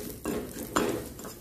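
Tempered mustard seeds poured from a small pan into moru curry, two quick clinks of metal on metal with a soft splash and sizzle, close and brief, no voices.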